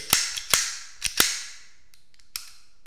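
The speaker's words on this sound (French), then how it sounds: "vous tirez le pontet et vous rentrez la glissière dans l'arme" An original Walther PP pistol in 7.65 mm (.32 ACP) being worked by hand, its slide driven forward into the frame with several crisp metallic clacks, close up, followed by a couple of fainter clicks.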